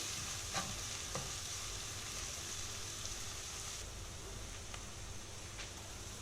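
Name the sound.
onions softening in a pan, stirred now and then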